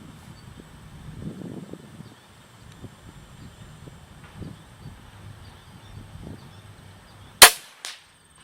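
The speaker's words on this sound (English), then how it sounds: "as many times as you want to shoot your crossbow" A Killer Instinct Swat XP crossbow fires once at an outdoor range, a single sharp crack near the end followed by a short impact, after several seconds of quiet wind and rustling.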